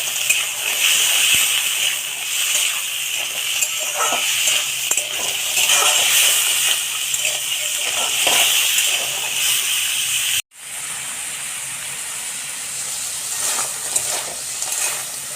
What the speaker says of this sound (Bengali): কড়ার তেল গরম হয়ে গেছে তো কাঁকড়াগুলো দিয়ে দেব তো এটা হালকা ভেজে নেব